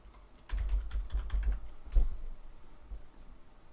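Typing on a computer keyboard, a quick burst of close clicking keystrokes followed by a few slower, isolated taps, with no talking.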